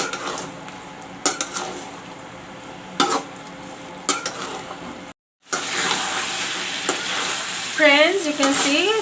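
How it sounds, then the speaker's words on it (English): Masala paste fries with chicken in a pan, a steady sizzle broken by stirring scrapes and clinks of a utensil against the cookware, with a brief cut midway before the frying grows louder and brighter. "Now this masala will fry along with the chicken."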